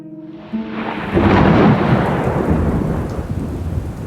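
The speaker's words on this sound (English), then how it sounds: "Outside howled the fiercest storm that the county had seen in ages." Heavy thunder bursts in and rolls on over a roar of driving rain, loud and close, building then slowly fading while the downpour continues.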